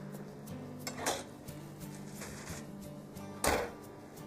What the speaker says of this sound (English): Let me put these in the oven.